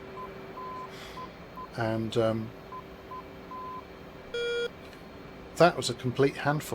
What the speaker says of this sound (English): I'm guessing this is our radar warning receiver telling me that bad things are happening.